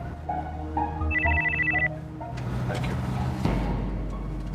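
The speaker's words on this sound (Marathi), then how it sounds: "जावळकर, ऑफिस मधनं फोन आहे, जरा घेता, अर्जंट असेल काहीतरी." An office telephone rings in a home, a bright electronic trilling burst followed by rustling movement, close, with a voice speaking.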